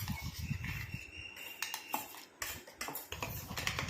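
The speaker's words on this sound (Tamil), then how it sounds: "நல்லா ஒரு கரண்டி வச்சு இந்த மாதிரி எல்லாத்தையும் எடுத்து விட்டுக்கலாம்" A spoon scrapes ground paste out of a metal mixer jar with a series of short, faint clinks and scraping knocks in an irregular rhythm, heard close up and alone.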